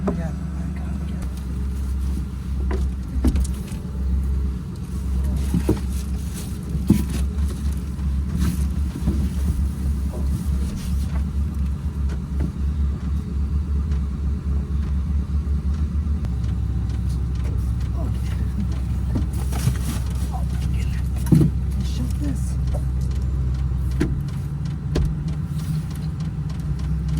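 A parked truck's engine idles in a Walmart parking lot at night, a steady low rumble that holds for the whole stretch, with scattered small knocks and clatters and some faint voice over it.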